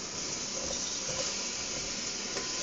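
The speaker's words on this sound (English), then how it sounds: "once I saute this, I'm gonna saute it till it gets kind of soft, till the vegetables actually wilt." Vegetables sizzling in a pot for Jamaican brown stew chicken, a steady close-up hiss that runs unbroken and even throughout, with no talking.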